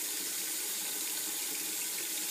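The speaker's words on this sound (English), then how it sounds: "I'll take water in my hand like this, and I'll just splash it all over my face" Steady, close rush of water running at a bathroom sink as a face is splashed, a constant loud hiss with no pauses and no voices.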